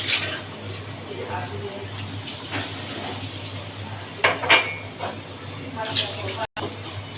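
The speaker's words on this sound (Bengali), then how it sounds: "এখন আমি এগুলো নাড়াচাড়া দিয়ে দেবো" A pot of pumpkin and potato curry gets stirred, with scattered scrapes and clinks of a utensil against the pot over a low steady background hum, under quiet talk.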